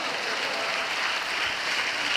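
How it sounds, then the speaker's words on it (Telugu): Congregation clapping steadily during a Christmas sermon in a church, a dense continuous wash of applause throughout with no voices standing out. "చప్పట్లు కొడుతూ దేవునికి స్తోత్రాలు చెప్దాం గట్టిగా, హల్లెలూయా."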